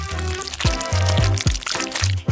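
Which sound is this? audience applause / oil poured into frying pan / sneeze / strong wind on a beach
oil poured into frying pan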